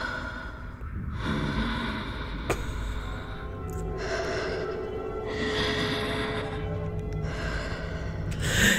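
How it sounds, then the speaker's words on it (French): A character snores at the opening of an episode of the Star Wars series The Acolyte, with steady, close rasping breaths that swell and fade in a slow rhythm under a constant background hum. "ça commence sur un personnage qui ronfle"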